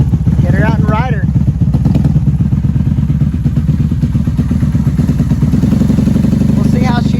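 The engine of a 1994 Honda Magna motorcycle runs steadily while warming up after sitting with bad gas. The idle is loud, close and rumbling throughout, and someone talks over it now and then.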